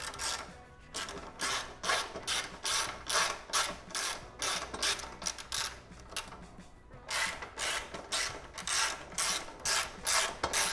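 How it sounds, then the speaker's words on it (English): Ratchet clicking in quick bursts while a part is fastened on a Honda CB200T motorcycle, fairly close, with short pauses between runs of clicks and no talk. "Just gonna go ahead and install it with a ratchet."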